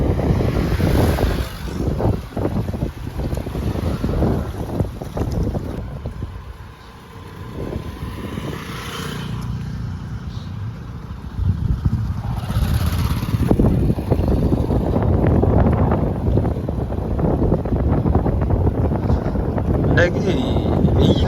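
Floodwater flows under the Vattuvakal bridge in Mullaitivu, a loud continuous rushing roar mixed with wind buffeting, while someone talks over it.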